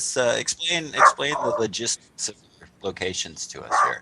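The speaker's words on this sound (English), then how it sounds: "That's our dog barking." A dog barks and yips repeatedly in a home during a music interview, loud yelping bursts mixed in and over a person talking nearby.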